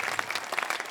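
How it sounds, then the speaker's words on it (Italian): Brief, fairly faint clapping from a small audience at an outdoor event in Piazza Manzoni, Jesolo, with quick uneven hand claps during one short burst. "E io devo fare l'applauso a voi perché siete stati veramente bravi"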